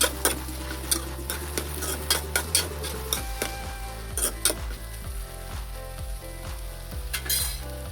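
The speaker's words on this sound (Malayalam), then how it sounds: "ജസ്റ്റ് ഇളക്കി കൊടുക്കാം ഒന്നുകൂടി." Okra stir-fry is stirred in a hot pan, a spatula scraping and knocking against the metal in a quick irregular rhythm over a continuous sizzle, close and moderately loud with no talking.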